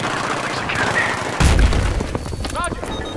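A tank blows up in the shooter Battlefield 3 with a sudden loud boom that rolls out into rumble, surrounded by scattered gunfire and other battle noise at close range.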